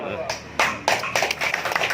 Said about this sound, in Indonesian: Tepuk tangan dulu ah.